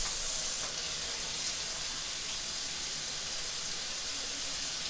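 Warm water running from a kitchen tap, a constant bright hiss of the stream close by, slightly louder at the start and then steady, with no speech.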